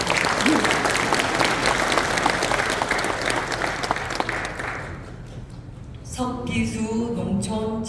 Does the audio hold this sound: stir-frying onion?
no